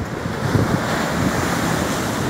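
A sea wave breaking on a beach at Mar del Plata during shore fishing, a steady roaring wash of surf mixed with wind buffeting the microphone, loud and unbroken for a couple of seconds.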